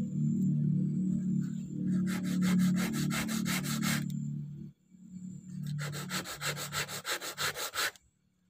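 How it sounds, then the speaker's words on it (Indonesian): 80-grit sandpaper rubbing across wood for a bumper repair, a loud steady scraping in rapid back-and-forth strokes, pausing briefly midway and then resuming in distinct rhythmic passes. "Saya gunakan amplas nomor 80."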